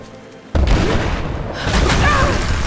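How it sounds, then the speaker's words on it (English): A loud explosion booms in Rise of the Tomb Raider on Xbox One after a quieter lead-in, followed by rumbling debris and crackling that stays loud to the end. "Blasting their way in."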